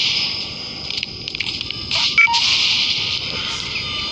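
A telephone sounds through gameplay audio, with a steady electronic tone and brief dial-like beeps running over about four seconds, fairly loud against a constant background.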